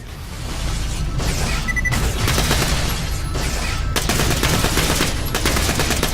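Gun turrets in Borderlands: The Pre-Sequel fire loud, sustained rapid bursts of automatic gunfire, with a few short breaks between volleys and heavy booming impacts, and no voices over it.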